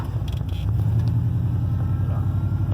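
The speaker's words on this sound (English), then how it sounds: "there's a lot of traffic out here right now" Afternoon road traffic rolls past outside a vehicle waiting to pull out, a steady low rumble that swells as a car goes by close and loud, then fades slightly.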